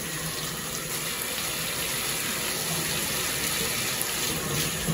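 Water runs steadily from a tap in a constant, hissing flow, close and unbroken for several seconds.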